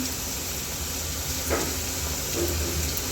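Garlic dropped into onion and chili frying in a pan gives a steady, close sizzle and hiss with faint spoon scrapes, no talking.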